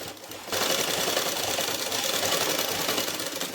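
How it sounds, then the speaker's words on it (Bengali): A sewing machine runs steadily, stitching padded blouse fabric in one continuous, even whir after a brief quiet start, loud and close with no talking. "এইবার ঠিক এরকম বরাবর ধরে সেলাই দিয়ে দেবো।"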